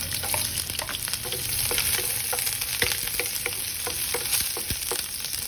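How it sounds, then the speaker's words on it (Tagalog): Garlic sautés in a pan in a steady crackling sizzle, with repeated light taps and scrapes of stirring, close and with no voices. "Saute the garlic"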